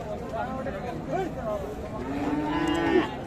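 A cow with its calf at a cattle market gives a couple of drawn-out moos, the second louder and longer, amid background chatter and crowd noise.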